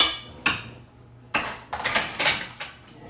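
Spoon knocking and scraping inside a pot during home meal prep, already-mushed food being mashed: a few sharp clanks spaced apart, then a quick cluster of scrapes and taps, moderately loud and close, with no talking.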